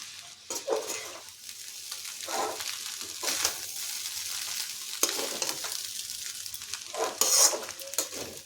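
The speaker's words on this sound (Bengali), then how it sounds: "এখন সবজিগুলোর সাথে খুব ভালোভাবে মিশিয়ে নিতে হবে।" Chow mein noodles with vegetables tossed in a wok for chicken chow mein, irregular bursts of sizzling and scraping stirs with occasional metallic clatter, close and fairly loud, no talking.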